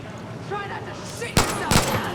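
Gunfire in the Far Cry New Dawn video game, a few sharp loud bursts cracking out in the second half after a stretch of muffled background noise, with a voice talking over it.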